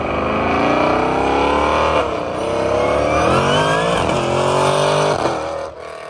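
A nearly 2000 hp Hellcord V8 engine runs close by with a loud, choppy, lumpy rumble, its pitch wavering and surging a few times without any talk.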